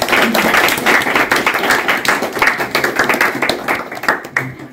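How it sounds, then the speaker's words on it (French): A school audience at a middle-school read-aloud championship final claps for the winner, giving dense, steady applause from many hands that thins out toward the end. "Et on peut applaudir."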